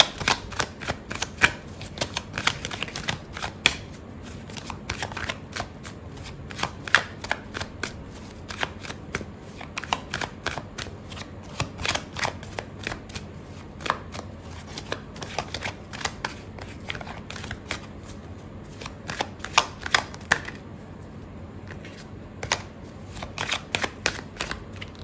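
A tarot card deck is shuffled steadily and close up, a dense run of crisp riffling flicks repeating throughout with no talking.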